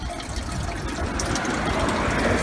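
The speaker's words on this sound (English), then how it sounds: "It's running like a river straight into our house and field." Water from a leak pours steadily onto a property, a continuous close rushing and gushing flow with no break across the clip.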